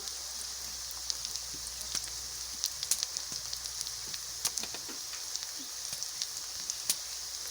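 Whole white cardamom, torn bay leaves and cumin seeds sizzle steadily in hot oil, a continuous crackling hiss dotted with sharper pops, close and moderately loud with no voices.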